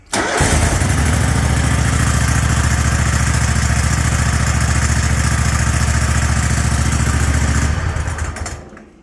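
A lawn mower engine with a clutch problem cranks up and runs loud and close, a steady pulsing clatter of rapid repeated knocks that holds for several seconds before cutting off.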